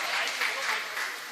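Audience applause at an Urdu mushaira poetry gathering in Nawabganj, Bareilly: a dense, steady burst of clapping from a crowd, continuous and fairly loud throughout the short moment.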